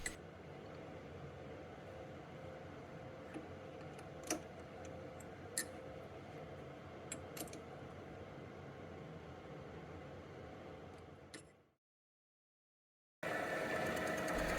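A lathe facing off the end of a boiler feed pump body runs with a steady low mechanical hum and occasional light ticks and clicks from the cut, then goes briefly silent before the hum resumes.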